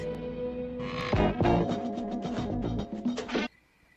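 Frogs croak in a dense, rhythmic chorus on the soundtrack of a 1972 film, loud and layered for about three seconds before cutting off abruptly into near silence.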